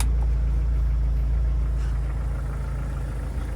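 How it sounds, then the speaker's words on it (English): A 1998 Jeep Wrangler idles close by after a transmission replacement, a steady low engine rumble with an even rhythm and no talk over it. "Engine sounds good."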